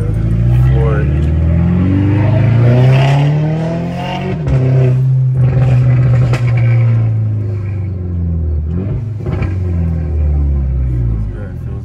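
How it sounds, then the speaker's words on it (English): A VW Mk6 GTI accelerates at full throttle after a tune-up and oil change, its engine note climbing through the revs in close, loud sweeps with a gear change midway, heard from inside the car. "I'm about to floor it."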